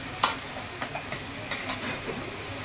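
Momos fry in a kadhai in a home kitchen, a soft sizzle running under a few sharp clatters and scrapes of a ladle against the pan.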